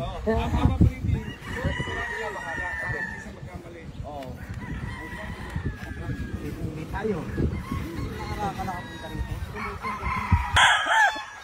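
Gamefowl roosters, Black Kelso and White, crow on a farm, their drawn-out calls rising over a steady rumble of background noise and someone talking throughout, with a louder crow near the end.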